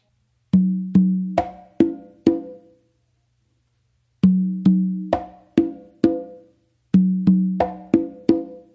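A conga plays three repeated phrases of crisp slaps, light taps and ringing open tones from a tumbao, close and clear, separated by short pauses.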